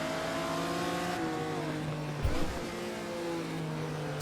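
A Ferrari race car engine in Assetto Corsa drones steadily on overrun, with a brief crackle and burble midway, heard alone without talk.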